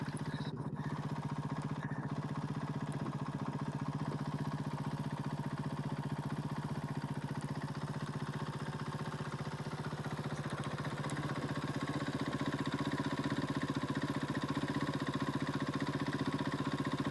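Monster Energy Honda rally motorcycles idle at a cold morning stage start in the desert, a steady low engine drone with an even rhythmic pulse, constant and fairly close throughout.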